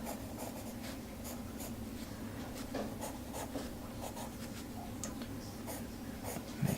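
A pencil scratches across paper in short, repeated strokes, a faint dry rasp close to the page, steady and quiet throughout.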